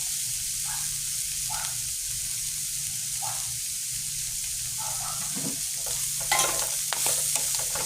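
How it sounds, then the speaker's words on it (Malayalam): A spoon scrapes and turns cauliflower thoran in a pan after ground coconut paste goes in, soft intermittent stirring strokes over a low steady sizzle, with a few sharper clatters toward the end. "നമുക്കിതൊന്ന് നന്നായിട്ട് ഇളക്കി യോജിപ്പിക്കാം"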